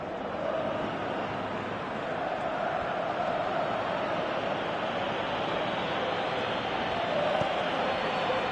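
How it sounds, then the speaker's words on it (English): Dense, steady crowd roar from a football video game stadium, a broad continuous wash of noise that swells slightly toward the end, with no clear talk over it. "you can feel and hear how the crowd are reacting to all of this"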